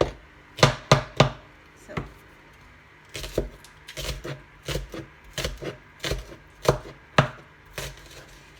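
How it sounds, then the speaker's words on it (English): A knife chops spring onions on a board in short, irregular bursts of crisp close taps with brief pauses between runs, and a single spoken word at the start. "I like spring onions, and this kind of onions give it beautiful flavor. So just chop down the onions."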